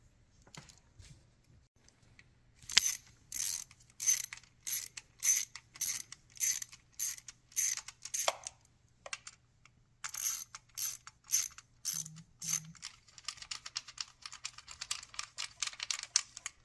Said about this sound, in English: we're going to take out this bolt right here, which is right next to the oil fill, and these two 8mm bolts